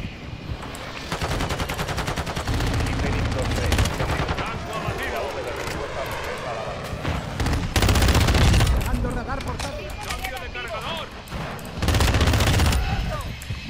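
Vaznev rifle fire in Call of Duty: loud, close bursts of rapid automatic shots that run nearly continuously, with short gaps and heavier volleys mixed with other game effects.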